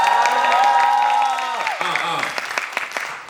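Audience applause and cheering at a book talk event, just before a rap is performed, rising under a sustained tonal voice or music that cuts off midway, with scattered claps continuing after.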